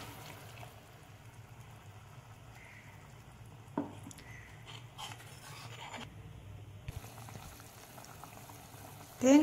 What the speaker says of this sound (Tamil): 10 நிமிஷமாக குழம்பு கொதிச்சிட்ருக்கு.